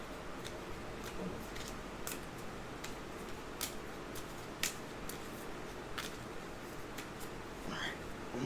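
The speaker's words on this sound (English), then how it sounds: "shuffled as best as I could." Cards for the board game Alien: The Fate of the Nostromo are shuffled by hand in a quiet room, faint repeated soft clicks and riffling snaps spread across several seconds over low background noise.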